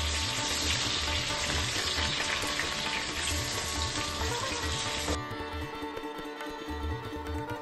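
Papaya pieces fry in hot oil with a sprinkle of turmeric, giving a loud, steady sizzle that carries on without a break and grows a little quieter near the end, with no voices.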